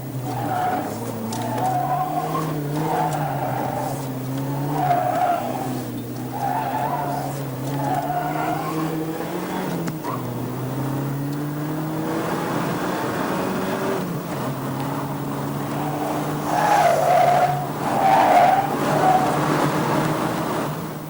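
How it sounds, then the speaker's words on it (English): A Saab Turbo and a BMW 528 run a slalom course, engines droning and rising and falling in pitch with each weave, and tires squealing steadily throughout. "let's see the Saab Turbo against the BMW 528 on a slalom"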